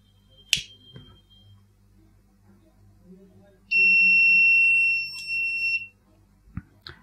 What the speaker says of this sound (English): Again, you can see the alarm was raised, and at the same time, simultaneously, the motor started rotating.